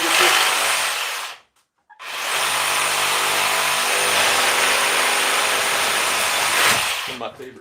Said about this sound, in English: Those are the 60-volt DeWalt's. That thing will cut anything.